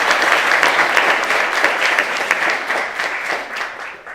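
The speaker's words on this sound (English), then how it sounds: "let's give him a round of applause anyway" A crowd at a university award ceremony gives a strong, sustained round of applause, many hands clapping close and loud before easing off slightly toward the end.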